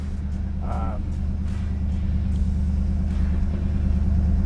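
A 1970 Pontiac Trans Am Ram Air IV V8 engine rumbles steadily close by with a deep, loping idle, and a brief voice is heard over it.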